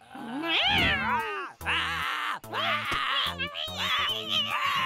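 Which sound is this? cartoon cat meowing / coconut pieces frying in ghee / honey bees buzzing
cartoon cat meowing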